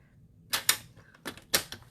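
A cutting tool slices paper cardstock for a handmade card, giving a few short, sharp, close snaps and clicks in quick succession with no voice.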